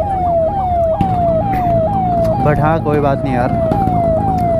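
A wailing electronic siren cycles rapidly over and over, loud and close, from a TVS Ntorq Race Edition scooter, while someone talks over it.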